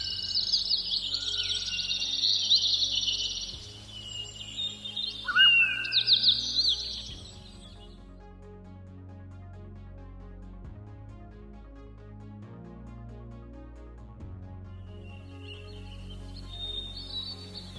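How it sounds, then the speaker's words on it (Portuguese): Birdsong in a green municipal ecotourism park with trails, a few chirps and trilling calls over the first seven seconds and again faintly near the end, set against a quiet, low ambient hum. "O silêncio do local só é quebrado pelo canto dos pássaros."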